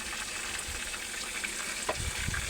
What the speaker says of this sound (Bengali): পটল আলুগুলোকে কেটে রেখেছিলাম রাইস দিয়ে ভালো করে ভেজে নেবো